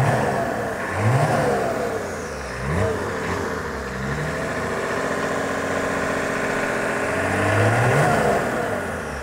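A diesel-swapped BMW E30 wagon's engine revs up and settles several times, heard from the front, deep throaty pulls rising and falling like a pickup truck, fairly close with a steady rumble between.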